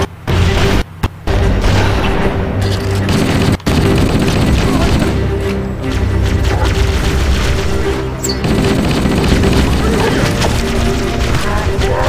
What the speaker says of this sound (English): Why were there explosions?